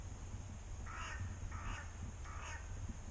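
A crow caws three times in a forest at a wild hammock campsite. The harsh calls are evenly spaced and moderately distant, over a quiet outdoor background rumble.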